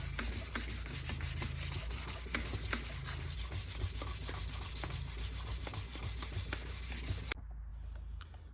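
Sandpaper rubs steadily back and forth against the flat mating surface of a GM 3800 V6 intake manifold, a continuous gritty scraping with a low rhythmic pulse, close up, that cuts off abruptly near the end.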